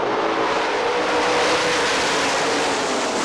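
Sprint cars roar together on the dirt oval at Hartford Speedway Park, a dense, loud, continuous wall of engine noise as the field takes the green flag, with no break or individual pass standing out.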